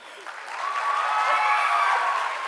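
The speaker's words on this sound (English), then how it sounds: "Big applause, please." Applause from a conference audience, a dense wash of clapping that swells within the first half second and holds steady and full to the end, with no voices over it.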